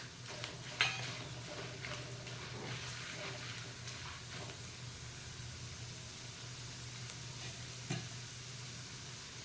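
Peanuts and roasted gram (dalia) frying in a pan for a wheat murmura snack, a soft steady sizzle with occasional stirring clinks, quiet and close, with no talking.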